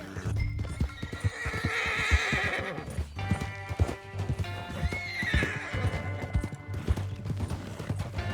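In Red Dead Redemption 2, a horse's hooves clip-clop steadily on the ground while the horse neighs and whinnies loudly, close up, without talk.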